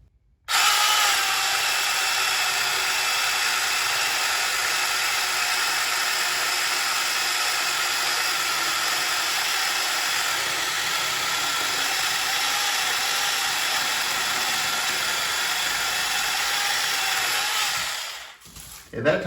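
A Tietac mini rechargeable chainsaw cuts through wood in one long continuous buzzing whine lasting nearly twenty seconds, loud and close, starting abruptly and winding down at the end.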